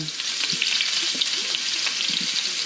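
Food sizzles and crackles steadily in an oiled frying pan, with a dense continuous hiss and occasional pops and stirring scrapes, close and loud with no talking.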